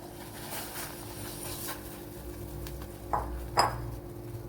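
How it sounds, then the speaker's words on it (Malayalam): Ada rice flakes being stirred in boiling water in a pot, heard as soft scraping with two sharp clinks of a utensil against the pot near the end, close and fairly quiet. "അട ഇനി ഒന്ന് ഇളക്കി കൊടുക്കണം, അല്ലെങ്കിൽ കട്ട പിടിക്കും."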